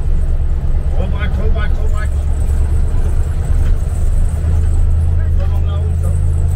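A car driven on a road gives a steady low engine rumble close by throughout, with people talking in French over it.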